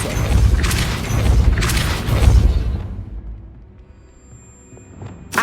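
The Depulso force spell in the Hogwarts Legacy video game lands as a deep booming blast with crashing debris that rumbles for a few seconds, then fades into quiet game ambience before a short final impact.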